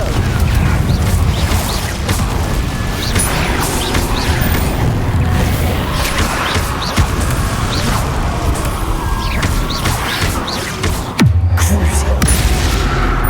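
The Confringo explosive spell in Hogwarts Legacy sets off dense, loud magical blasts and crackling impacts, with a heavy low boom toward the end amid busy combat noise and shouted spell names.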